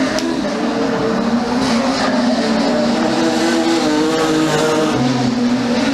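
Production sedan race cars roar down the front straight out of turn 4 in a King of the Road race, a loud continuous engine drone with rising and falling pitch as they pass close by.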